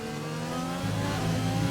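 A Formula 1 car in a racing video game held at full throttle, its engine holding a high, steady whine that steps up in pitch partway through as it pulls hard.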